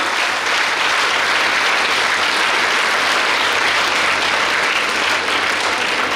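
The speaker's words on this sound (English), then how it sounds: "one round of loud applause for your parents" Loud, sustained applause from a large graduation ceremony audience at Kanachur Medical College, honoring the graduates' parents, steady dense clapping filling the whole stretch without pause.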